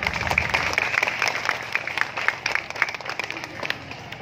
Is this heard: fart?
no